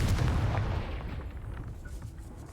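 A booming fire-spell blast from the video game Hogwarts Legacy, a heavy explosive burst at the start that decays into a fading rumble.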